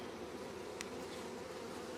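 Honey bees swarm around an opened beehive during an inspection, making a dense, continuous low drone that stays steady throughout, close by, with one brief higher buzz passing near.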